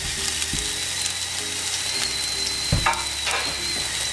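Ginger and garlic frying in a pan, a steady loud sizzle with occasional stirring scrapes and a faint mechanical clicking in the background.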